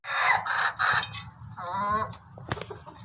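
A Golden Misri rooster on a small poultry farm gives a few close, loud clucking bursts and then a longer throaty call, with quieter farmyard noise underneath.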